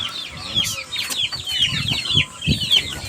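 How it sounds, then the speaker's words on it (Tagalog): Several native chickens cluck and chatter close by, with repeated short calls overlapping in an irregular rhythm. "ito yung mga dumalaga natin mga manok na mga native"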